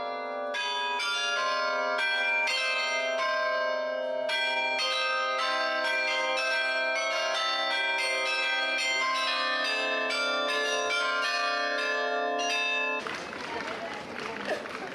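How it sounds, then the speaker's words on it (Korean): Carillon bells of the 13th–15th-century Bruges belfry in Belgium play a loud, continuous melodic peal of many overlapping bell tones, ending abruptly in a wash of city street noise. "15분마다 카릴론 악기로 연주되는 브리헤 종탑 종소리의 장엄함은 그 소리만으로도 도시를 지켜주고 있다"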